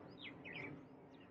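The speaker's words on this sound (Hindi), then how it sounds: "अलग अलग चिड़ियों की आवाज़ चहचहाते हुए सुन लीजिए" Several kinds of birds chirp outdoors among the tree canopy, giving soft, brief, rising whistles and tweets. The calls are distant and faint over low background noise.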